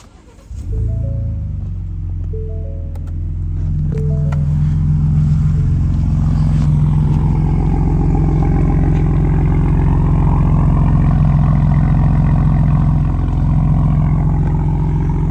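A Ford Ranger Raptor 3.0 V6 with muffler and resonator deleted cranks and fires up, then settles into a loud, steady, deep idle rumble that holds close and continuous.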